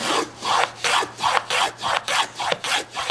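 A hand plane cuts a drawer-bottom groove in a wooden dovetailed panel, about ten rhythmic rasping strokes in quick succession, close and fairly loud with short gaps between each pass.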